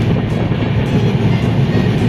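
A train running along a railway line in Maharashtra during the rains, a steady, loud rumbling roar with faint rhythmic wheel clatter, close and continuous throughout without any voices.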